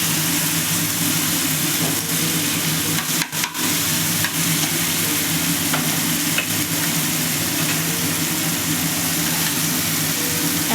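Tomato sautéing in hot oil after a black cumin tempering, a loud, continuous sizzle with a low steady hum beneath it and a brief dip near the middle, no voices.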